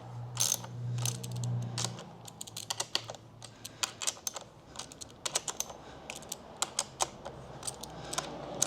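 A 10 mm ratchet socket wrench tightens the bar mount bolts on a KTM 890 SMT motorcycle, giving quick bursts of sharp, close pawl clicks with brief pauses between strokes.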